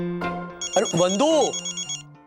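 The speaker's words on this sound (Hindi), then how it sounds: "मुझे लगा मेरा फोन बज रहा है, तुम्हारा बज रहा है।" A phone ringtone plays a bright, melodic electronic tune with repeating tones, fairly close and loud, ending after a couple of seconds.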